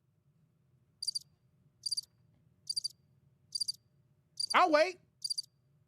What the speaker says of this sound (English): You hear the crickets, right?